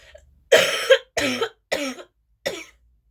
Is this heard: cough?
yes